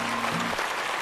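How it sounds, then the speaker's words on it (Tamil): A studio audience at a Tamil television reality show claps to welcome the Tamil Nadu team, a dense, even patter of applause that fills the brief moment. "ஒரு பெரிய கைத்தட்டலோட வெல்கம் பண்ண"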